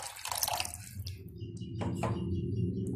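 Tamarind extract is poured from a vessel into a pot of onion-garlic kuzhambu, a short close liquid splash and trickle followed by gentle bubbling drips, quiet and with no voices.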